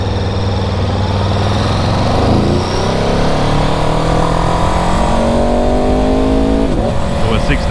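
An Aprilia 1100 Factory motorcycle engine revs hard and climbs steadily in pitch, loud and close, with a brief dip near the end before rising again.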